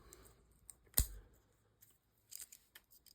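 A single sharp snip of Swiss Army type scissors cutting, close and crisp, followed by a few faint clicks and handling noises in a quiet room.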